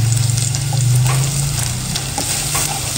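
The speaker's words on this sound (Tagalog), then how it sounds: "Igisa natin yung bawang at sibuyas." Garlic and onion sauté in a hot pan, a steady close sizzle with occasional stirring scrapes and light crackles throughout, no voices.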